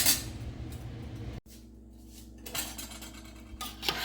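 Stewed tomatoes simmering on low heat in a cooking pot, stirred with a utensil that clinks and scrapes against the metal, giving a few sharp clatters and a steady rattling scrape, close and fairly loud, with no voices.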